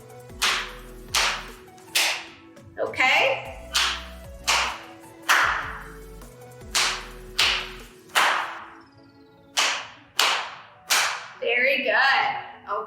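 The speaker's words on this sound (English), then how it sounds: "as we bend, we're gonna go 2 times, and then we stand up and we clap once" Sharp, crisp hand claps and slaps ring out in a steady repeating pattern during a group rhythm exercise, pairs of knee taps followed by a single clap, close and loud, with a brief spoken word near the end.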